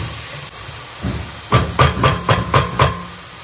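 Chopped onion hits hot oil for lentils with cabanossi, bursting into a loud, close sizzle that pulses in quick repeated surges as it is stirred.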